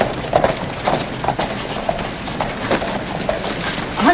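A horse's hooves clip-clop at a brisk trot, a quick rhythmic clatter, fairly close and loud, with faint background noise.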